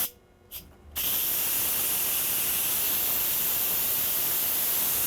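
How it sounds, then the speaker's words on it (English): Steam jets out of an Instant Pot during a quick pressure release, a loud steady hiss that bursts on after a brief quiet lead-in with a few small clicks and then holds constant. "So I'm going to do a quick release of the pressure."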